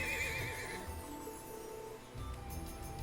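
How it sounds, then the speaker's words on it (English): A horse whinnies and strikes out with a kick in the video game Trails of Cold Steel 2, a wavering neigh at the start followed by a duller thump and game sounds, fairly close and clear. "what do they call the horse kick?"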